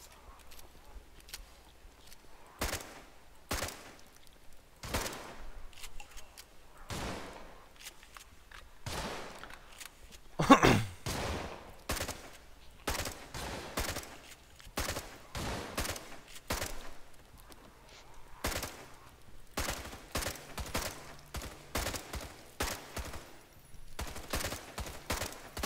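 Gunfire in the zombie shooter Contagion crackles in sharp, irregular bursts of single shots and quick volleys, some close and loud, with short gaps between them and no talking heard.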